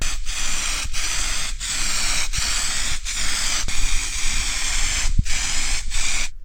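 Spray gun laying down coats of Cosmic Gold paint on a hot rod, a steady close hiss broken by short regular pauses between passes, no talking.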